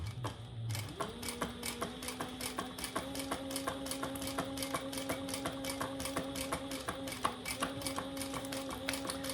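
Sewing machine running steadily while top stitching a garment seam on a sewn project with magnetic snaps, a continuous close mechanical whir with a fast, even needle rhythm throughout and a few small ticks.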